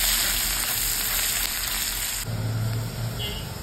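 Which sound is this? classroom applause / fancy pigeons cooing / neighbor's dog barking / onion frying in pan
onion frying in pan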